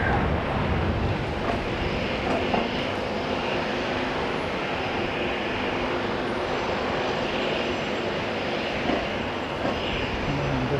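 An airliner's engine roars steadily at Auckland International Airport, a loud continuous rumble that lasts throughout with no voices.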